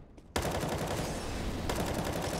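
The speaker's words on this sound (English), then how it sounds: "Fires off another shot" Rapid, continuous automatic gunfire in Counter-Strike on the Dust2 map during a Complexity versus Luminosity match, starting abruptly after a brief quiet and staying loud and dense throughout.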